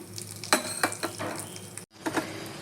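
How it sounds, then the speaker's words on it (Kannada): Urad dal and chana dal tip into a little oil in a pan, soft scattered rattles and light sizzling, with a short dropout near the end before the quiet frying resumes. "ಈಗ ಬಾಣಲೆಗೆ 1/2 ಸ್ಪೂನಷ್ಟು ಎಣ್ಣೆ ಹಾಕ್ಕೊಂಡಿದ್ದೀನಿ. ಇದಕ್ಕೆ 2 ಚಮಚ ಆಗುವಷ್ಟು ಉದ್ದಿನಬೇಳೆ, 2 ಚಮಚ ಕಡಲೆಬೇಳೆ"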